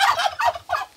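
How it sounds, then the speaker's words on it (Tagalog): A turkey gobbles on a farm in the countryside: three quick, warbling bursts, loud and close, with no talking. "Ya, Pabo."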